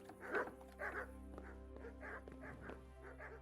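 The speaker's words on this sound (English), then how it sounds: "These are just guard dogs. They want to attack me." Guard dogs bark in the medieval role-playing game Kingdom Come: Deliverance, a run of repeated barks and yips at a moderate distance over a low steady game ambience.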